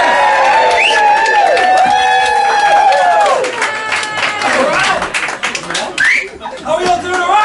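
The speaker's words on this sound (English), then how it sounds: "A 50-pound cheer for Riggs, ladies and gentlemen." Lively bar crowd cheering, whooping and clapping for a comedian, loud and close, with individual voices rising and fading through the sustained noise.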